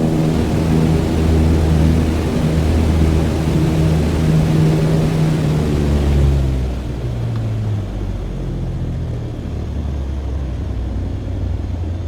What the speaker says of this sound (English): Let's see what happens when you cut all the power.